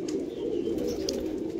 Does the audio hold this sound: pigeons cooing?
yes